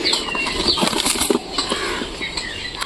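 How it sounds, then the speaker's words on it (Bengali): A pigeon's wings flap in flight close by, giving quick fluttering bursts that rise and fade over a few seconds, with faint bird sounds in the background. "কবুতরটা কত সুন্দর উড়বে"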